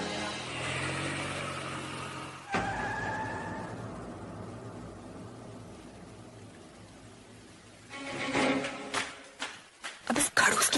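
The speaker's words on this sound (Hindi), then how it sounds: "अब इस खड़ूस की गाड़ी यहाँ आकर क्यों रुक गई?" A car pulls up and stops: engine and tyre noise swell, then settle into a low idle before a run of sharp knocks and thumps near the end, with a horse whinny in the mix.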